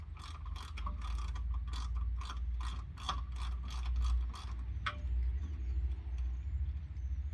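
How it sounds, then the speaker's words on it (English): A ratchet loosening 10 mm nuts and 13 mm bolts on the rocker skid plates of a 2022 Ford Bronco, quick rapid clicking bursts in a repeated rhythm over a low steady hum, close, with no speech. "there's just 4 10 mil nuts, and there's 2 13 mil bolts, and then they just come right off"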